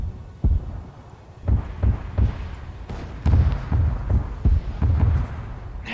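Deep booming thuds repeat at a steady rhythm as a PT boat is destroyed in the video game Arma 3, several heavy explosions in a row with a low rumble between them.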